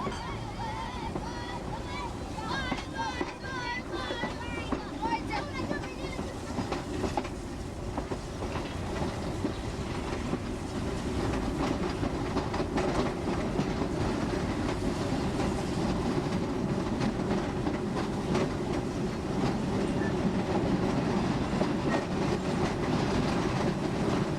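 Steam locomotive hauling the Mount Gelai train on the line to Mombasa, with a steady rolling rumble and rhythmic clickety-clack of wagons on rails, building slightly louder and holding close throughout.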